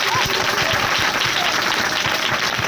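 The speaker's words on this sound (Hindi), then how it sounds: "ताली बजाओ जिंदा यीशु मसीह के लिए" Worshippers at a Hindi-language Christian preaching gathering clap together in steady, dense applause, with rhythmic hand claps carrying clearly for a few seconds.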